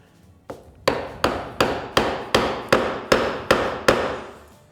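A wooden mallet drives a sturdy Narex mortise chisel with unbevelled sides into wood. About nine evenly spaced, sharp, close knocks land one after another, each decaying quickly, with no talking.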